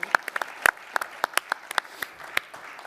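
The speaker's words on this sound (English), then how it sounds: "Big applause." An audience at a travel technology startup pitch event gives short applause after a pitch, with scattered distinct claps rather than a dense roar.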